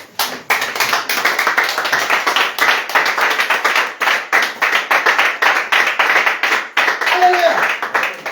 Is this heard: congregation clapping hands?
yes